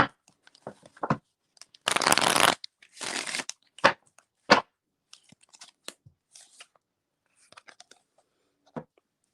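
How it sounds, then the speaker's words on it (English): A deck of cards is shuffled in two loud riffling bursts, each followed by scattered soft taps and slides of cards being handled, with quiet gaps between them. "Shake the dust off these cards."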